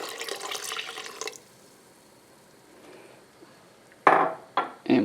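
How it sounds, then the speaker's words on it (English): Water from a measuring cup poured into a pot of simmering white beans in broth, a steady splashing pour for about a second and a half, then a quiet pause and a few sharp clinks of kitchenware near the end. "So here's 2 cups of water"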